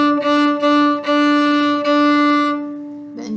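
A bowed string instrument repeats the pepperoni pizza rhythm on one sustained pitch, four short strokes then two longer ones, loud and close with no talking, before a brief different tone at the very end.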